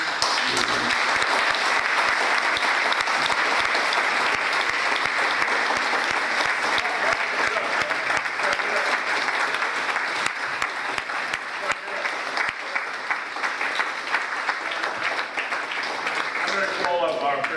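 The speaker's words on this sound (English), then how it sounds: "give a nice round of applause to these two wonderful people" An audience at a Republican club debate claps long and hard, a loud, unbroken roar of applause lasting over seventeen seconds with scattered voices buried in it and a slight fade at the end.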